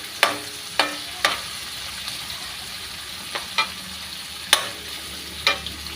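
Shrimp paste sautéing with onion and tomato, stirred in a pan: about eight sharp, separate utensil clacks at uneven intervals over a faint, low sizzle, close by, with no talking.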